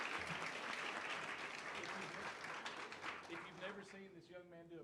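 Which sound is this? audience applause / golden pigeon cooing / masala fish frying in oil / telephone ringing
audience applause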